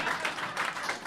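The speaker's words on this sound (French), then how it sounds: "On peut applaudir Julien Albertine encore une fois." Brief burst of audience applause and cheering for a comedian at a stand-up comedy show, a dense, lively wash of clapping from a crowd lasting about a second.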